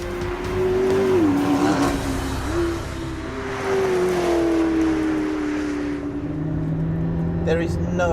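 A McLaren P1 supercar drives along a Welsh mountain road, its engine droning steadily with pitch rising and falling through gear changes, loud and close throughout.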